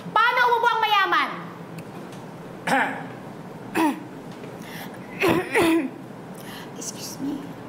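A performer at a comedy showdown imitates a rich person's cough: a drawn-out voiced sound followed by several short, dainty throat-clearing bursts, spaced apart and close to the microphone.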